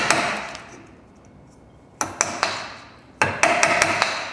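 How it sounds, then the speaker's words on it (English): Sharp mallet strikes drive a chisel into wood while cutting out a cross halving housing, coming in two bursts of several quick, ringing knocks separated by a quiet pause. "Start to chisel"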